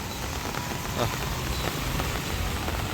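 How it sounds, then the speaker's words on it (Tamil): Heavy rain pours steadily in Nallur, Jaffna, a dense, loud, continuous hiss of drops striking surfaces with no break across the whole moment. "மழை வெளுத்து கொண்டு தான் இருக்குது"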